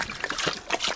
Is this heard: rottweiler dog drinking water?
yes